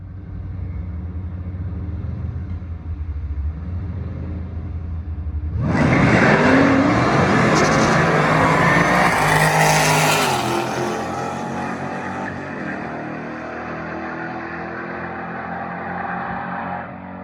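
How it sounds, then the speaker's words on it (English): A 2018 Jeep Grand Cherokee Trackhawk idles low, then roars as it accelerates hard, revving loudly before easing back to a steady driving drone. "my 2018 Jeep Grand Cherokee Trackhawk"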